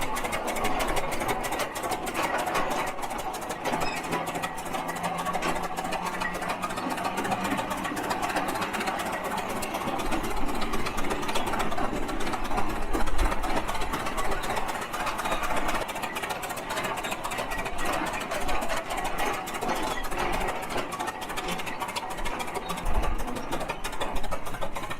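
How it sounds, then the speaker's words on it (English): An old tractor engine runs after a tune-up, idling with a steady, rapid mechanical chug throughout, fairly loud and close, with no talk over it. "they'd like to have the tractor tuned and running so the bidders can inspect it"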